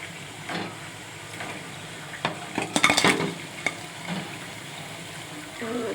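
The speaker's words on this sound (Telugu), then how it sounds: "అందుకని మైదా బొండ వేస్తున్నాను." Maida bonda batter dropped into hot oil, giving a steady frying sizzle with a brief cluster of louder spattering crackles and a few utensil clinks midway, close by with no talk.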